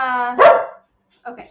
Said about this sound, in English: Slim's barking, wants to come out here.